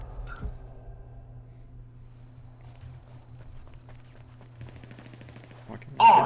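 Shotgun fire in a video game during a live stream: one sharp blast early, then a loud burst near the end, over a steady low game hum with faint clicks.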